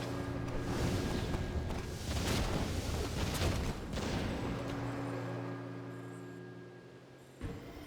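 Mortar units fire during a hectic Warcraft III battle between Moon and Sok, with repeated booming blasts and rumbling explosions layered over dense combat noise.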